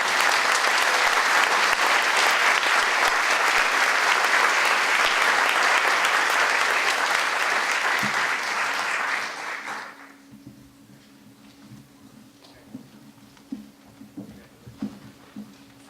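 An audience at a Yom HaShoah remembrance gathering gives a loud, sustained round of applause that fades out after about ten seconds, leaving a quiet room with a few scattered knocks and shuffles.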